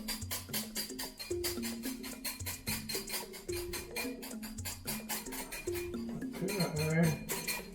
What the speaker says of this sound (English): we whisk it about 5 minutes or until you get a nice, creamy coffee